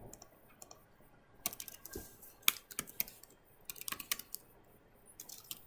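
Keys clack on a computer keyboard as a command is entered. The keystrokes come in quick irregular bursts, close and fairly quiet, with short pauses between clusters.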